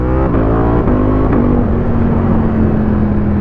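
A Ducati Panigale V4S motorcycle engine revs loud and close, its pitch sweeping down and then settling into a steady high drone, with sharp exhaust pops breaking in along the way.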